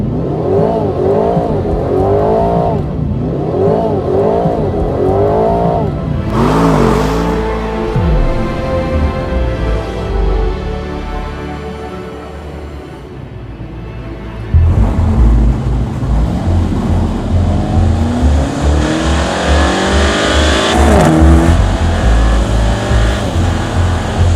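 An Aston Martin Vantage engine gives several quick rising revs, then pulls hard under acceleration, climbing through gear changes, loud and close with no talking.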